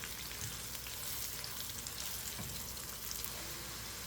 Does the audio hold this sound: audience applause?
no